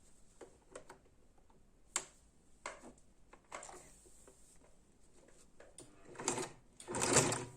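Short bursts of a sewing machine stitching along the seams of a patchwork quilt piece, quiet and intermittent with small clicks between runs, growing louder and denser toward the end.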